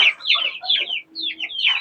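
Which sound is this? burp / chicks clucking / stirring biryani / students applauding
chicks clucking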